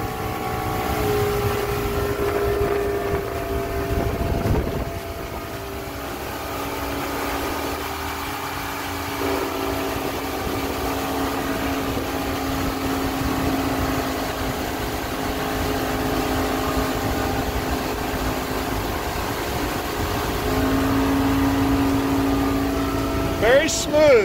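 A 2005 Triumph 210 center-console boat with a Yamaha 150 outboard runs through a turn on open water, the engine droning steadily under wind and water noise while someone talks throughout.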